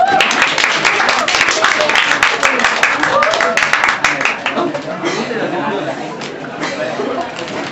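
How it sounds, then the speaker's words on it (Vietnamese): Audience applause at a singing contest audition, dense clapping mixed with crowd chatter and a little laughter, loud at first and thinning toward the end. "một tràng pháo tay cho bạn Tô Nữ Thùy Linh"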